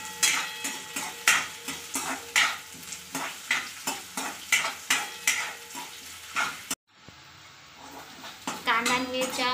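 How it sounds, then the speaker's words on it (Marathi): Chopped onion and green chillies stir-fry in a hot pan with steady, rhythmic spoon strokes and a constant sizzle for about seven seconds, then an abrupt cut to quieter kitchen noise. "कांदा आणि हिरव्या मिरच्या टाकून घेऊया। याचा रंग बदलेपर्यंत"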